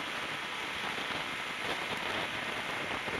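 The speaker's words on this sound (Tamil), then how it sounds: "மழை வந்துருச்சு, மேகக்கூட்டங்கள் மழையை வரவேற்று விட்டீர்களே" Steady rain falls outdoors at a hilltop temple site in Tamil Nadu, a dense, even hiss of drops on surfaces that holds at a constant level with no voices.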